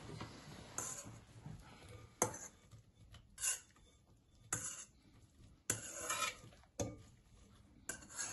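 Pasta tipped into a big bowl for a pasta salad, heard as a run of close clinks and soft scrapes against the bowl in irregular bursts, separated by quiet gaps and with no talking.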